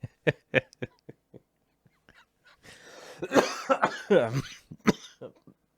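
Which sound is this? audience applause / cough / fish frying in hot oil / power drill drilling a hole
cough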